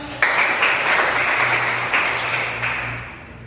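Classroom applause during a biology lesson starts abruptly and holds as a dense, even wash of clapping from many hands, slowly fading toward the end.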